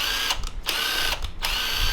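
A small 3/8-inch impact wrench runs in short bursts on an engine build for a Chevy Nova, with loud buzzing hammering broken by brief pauses.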